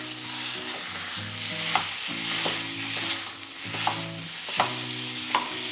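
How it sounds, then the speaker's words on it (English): Breakfast sausage sizzles steadily in a frying pan, a loud close hiss broken by occasional stirring scrapes, with background music playing underneath. "in this pan, we're going to cook up some breakfast sausage."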